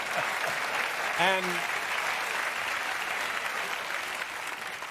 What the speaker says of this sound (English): I don't know what they're applauding for.